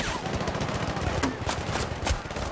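Machine gun fire in the video game Battlefield Bad Company 2 rattles in rapid dense bursts with sharp individual shots, loud and continuous throughout.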